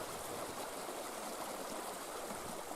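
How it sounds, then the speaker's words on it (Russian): A small spring meltwater stream runs steadily across a village toward a river in Komi, its soft, even babbling and trickling continuing alone without pause. "Как журчит."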